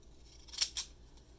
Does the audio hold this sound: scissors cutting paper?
yes